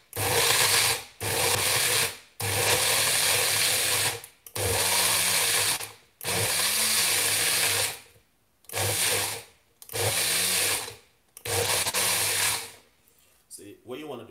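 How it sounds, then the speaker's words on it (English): Blender whirring in repeated bursts as it purees Jamaican hot pepper sauce, loud and close, with short pauses between pulses and faint voice sounds in the gaps. "So, that amount of blending so far is pretty good."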